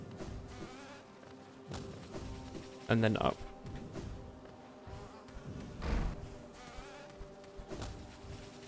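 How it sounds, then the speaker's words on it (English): Buzzing drill bees in the Hive area of the Hollow Knight video game, a faint insect drone with short louder bursts, heard under a person talking over game sounds. "I love the drill bees."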